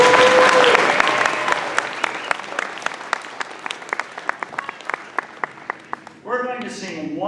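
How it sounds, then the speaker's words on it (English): An audience at a kindergarten concert breaks into applause: dense clapping that thins into scattered, separate claps before a voice begins speaking. "How about a round of applause for this?"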